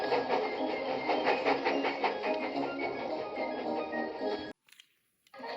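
A cartoon steam locomotive, Thomas the Tank Engine, chuffs steadily along the track in a rapid, even rhythm of puffs and clatter, then cuts out abruptly near the end.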